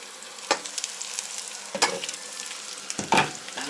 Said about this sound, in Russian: А а у меня котлетки дожариваются уже все.